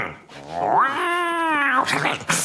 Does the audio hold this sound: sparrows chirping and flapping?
no